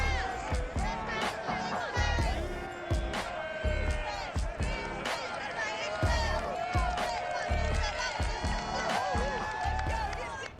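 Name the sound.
stadium crowd cheering in the video game Madden 22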